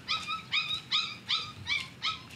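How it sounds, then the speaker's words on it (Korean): A puppy whimpers in six short, high, whiny cries at an even pace, heard up close but fairly soft over quiet outdoor background. "예쁜 강아지 하나 얻어왔어요."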